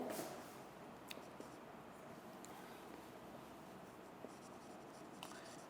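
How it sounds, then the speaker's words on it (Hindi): Chalk or marker scratching across a board during a lecture, with faint, steady strokes over a quiet hiss of room noise and no voices. "इधर मैं लिख भी देता हूँ"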